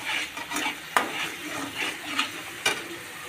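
Fish pan-roasting in a home kitchen, a soft steady sizzle broken by several sharp scrapes and knocks of a spoon stirring against the pan, close by and without talk.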